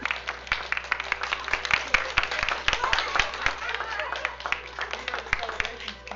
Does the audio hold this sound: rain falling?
no